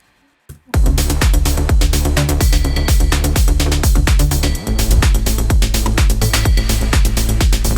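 A progressive house remix of a 1990s trance classic plays loud and steady, its kick drums pushed onto the offbeat under rolling synths, with a brief dip in the beat partway through.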